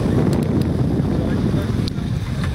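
A boat rides choppy open water, with a steady rushing wash of waves and wind buffeting the microphone throughout.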